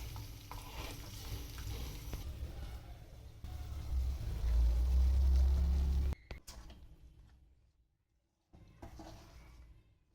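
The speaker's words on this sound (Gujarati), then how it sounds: "હવે તે આપણે ગેસ બંધ કરી અને અડદના લોટમાં આને મિક્સ કરી દઈશું" Hot milk and ghee being stirred into urad flour, a steady sizzling, scraping mix that builds and then stops abruptly, followed by a few faint handling sounds.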